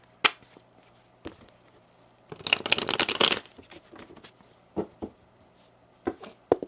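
Tarot cards being shuffled for a reading, heard close and clear as sharp riffles and taps with a dense burst of shuffling in the middle, no voices.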